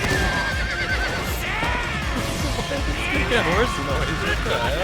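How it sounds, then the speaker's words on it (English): Horse neigh sound effect in the Chainsaw Man movie: a loud, shrill whinny with wavering, descending pitch, heard up close over busy music and background sound. "why the actual fuck did they play a horse noise?"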